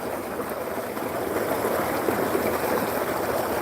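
Excess canal water pours straight down into a farm tubewell bore, making a steady, close, continuous rush and gurgle of flowing water with no talking.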